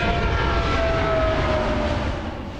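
A Boeing 777X jet airliner roars loudly on its first flight takeoff, a steady broadband jet-engine rumble with a faint whine, fading slightly toward the end, no voices.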